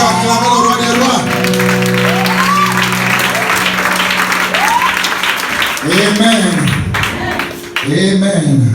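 A church congregation bursts into sustained, loud applause and cheering for the King of Kings, with scattered shouts and raised voices over continuous clapping.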